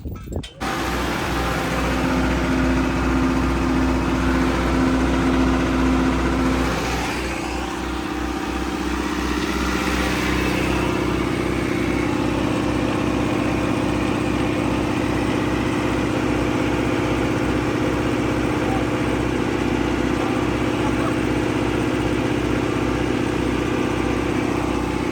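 A tractor engine idles steadily and close by, a continuous low mechanical rumble with a rhythmic chug that runs unbroken throughout.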